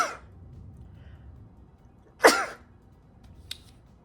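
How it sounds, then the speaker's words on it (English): One abrupt close sneeze bursts out after quiet room tone, followed by a faint small click, with no speech. "gonna sneeze."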